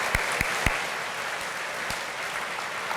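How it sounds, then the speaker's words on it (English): Audience applause at a city's State of the City address forms a steady, moderately loud wash of clapping throughout, with a few low thumps near the start. "So all of them deserve a round of applause."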